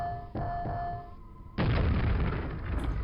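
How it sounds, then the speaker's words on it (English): A grenade blast in the Quake video game: a short sequence of muffled pops and tones, then a sudden loud, boomy explosion that sustains a rumbling, noisy tail to the end. "Maybe I throw a grenade in there."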